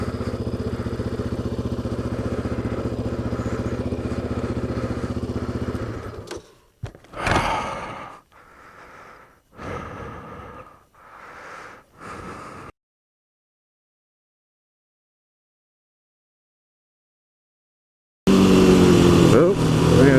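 A powerful quad ATV engine drones steadily and loudly for several seconds on a trail ride, then cuts into scattered bursts of revving and rattling before falling silent, with a loud roar returning at the end.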